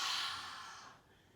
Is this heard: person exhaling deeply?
yes